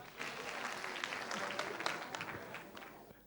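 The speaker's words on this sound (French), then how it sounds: "Merci d'applaudir encore" A studio audience claps for a singer named Déborah at a televised singing competition quarter-final, a moderate, steady round of applause with scattered sharper claps that tapers off near the end.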